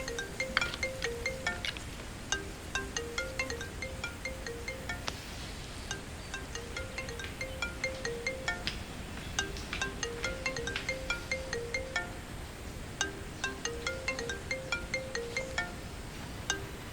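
A mobile phone rings with a repeating electronic melody, its phrases coming in regular bursts that repeat through the whole stretch, fairly faint and with no one speaking over it.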